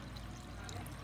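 Water is poured from close by into a cooking pot as a continuous gushing stream, heard alone.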